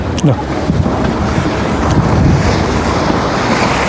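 A boat moving over the water near Burano island, Venice, Italy, with a loud continuous rush of wind and wave noise buffeting the microphone throughout.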